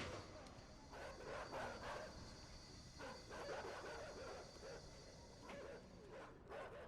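Dogs in the video game INSIDE yelp and bark in repeated short bursts over a dense, rumbling game soundscape, moderately loud and continuous throughout.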